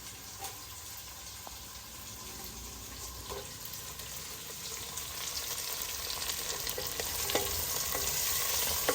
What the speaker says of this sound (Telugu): ఉల్లిపాయలు వేగుతున్నాయి కదా